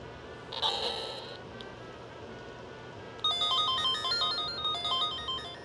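Chiptune game sound from a vintage Sega Game Gear's small built-in speaker, a brief tone burst and then a busy stepping melody of bright beeps starting partway through, slightly harsh and close.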